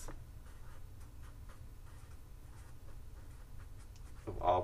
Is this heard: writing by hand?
yes